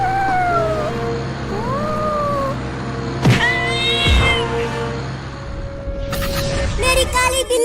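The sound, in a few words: cat meowing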